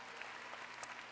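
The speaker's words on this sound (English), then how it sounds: "You can clap for him." A crowd at the LA Forum claps for a county supervisor, a broad wash of distant applause at low level, continuous with faint scattered sharper claps.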